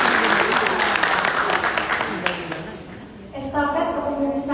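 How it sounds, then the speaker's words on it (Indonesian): Audience applause at the 2024–2029 ISNA central board inauguration ceremony, a dense patter that fills the first half and then fades as a voice speaks over it. "Mungkin boleh tepuk tangan untuk DPP Persagi."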